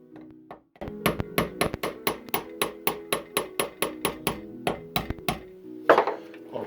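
Hammer tapping a roll pin through a shaft on a 1980 Land Rover Series 3 109, about fifteen sharp metallic taps in a steady rhythm, close and clear with nothing else heard.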